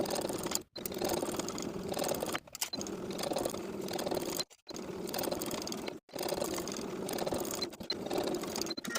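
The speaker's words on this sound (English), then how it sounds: "I'm going to be using a zigzag stitch." A sewing machine runs a zigzag stitch to attach binding on a tank top armhole, buzzing in several bursts separated by brief pauses, fairly close and moderately quiet.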